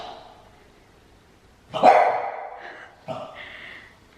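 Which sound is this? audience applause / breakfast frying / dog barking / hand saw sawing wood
dog barking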